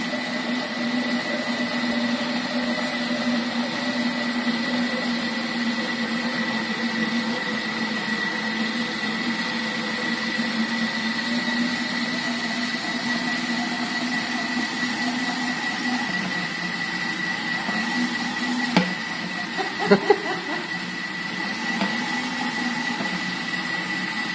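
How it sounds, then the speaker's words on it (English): A Thermomix churns cream into cultured butter with a steady, loud motor hum and whir that runs unbroken. Toward the end the tone shifts slightly and a few brief knocks sound. "when you're making butter, you just want to listen to your Thermomix"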